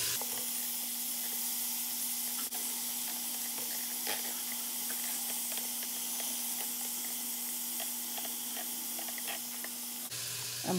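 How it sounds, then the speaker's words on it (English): Black-eyed peas sauteing in a pot for a southern-style dish, giving a steady, close sizzling hiss with a faint low hum underneath throughout, and a brief clatter at the end. "I'm going to let this saute for about 5 minutes in this pot."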